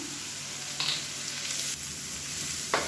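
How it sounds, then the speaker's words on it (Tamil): Onions, green chili and curry leaves sauté in a pan for onion chutney, giving a soft, steady sizzle with a few brief scraping stirs. The sound is close but faint, and no one speaks. "இப்போ எல்லாத்தையும் நல்லா வதக்கி வச்சுக்கலாம்"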